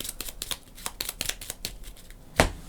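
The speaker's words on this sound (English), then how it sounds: "We're going to shuffle his deck up." A deck of cards for the Barcelona board game is shuffled by hand, a rapid series of crisp riffling flicks and soft slaps, close and fairly quiet, ending in one sharper snap.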